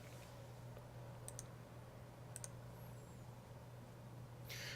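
A computer mouse gives a couple of faint double clicks against a low steady hum in a quiet room.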